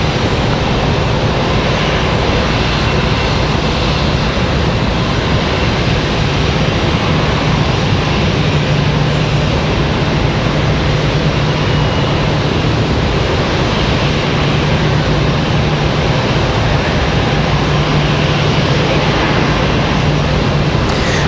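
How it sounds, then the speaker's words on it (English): Broadband jet roar from a Delta Airbus A319 departing Raleigh Durham for Tampa, a steady, loud, continuous rush holding throughout with no talk. "The A319 departure that we missed out on there, that was Delta 1275. They're headed out to Tampa."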